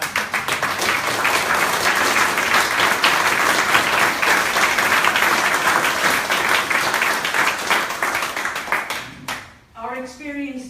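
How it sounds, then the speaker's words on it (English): Sustained crowd applause from an audience at a jury statement for a village reconstruction competition, dense steady clapping for about nine seconds before it fades and a voice begins talking near the end. "I think we have to have a round of applause for that."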